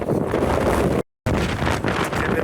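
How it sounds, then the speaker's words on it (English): Strong wind roars and buffets a tent on a snowy winter mountain, with flapping gusts against the microphone, broken by a brief dropout of silence midway. "Tent's having a bit of a battering this morning, it's gone windy."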